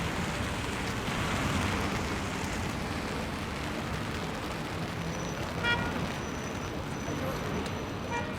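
Steady rain falls along the Champs-Élysées in Paris, a dense continuous wash of drops mixed with city traffic noise, passing cars and a faint horn, constant and fairly loud throughout with no clear talk.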